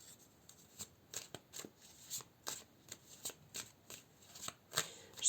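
Tarot cards shuffled by hand in a series of soft, crisp riffling bursts, repeating about a dozen times at an uneven rhythm, close and fairly quiet with no talking.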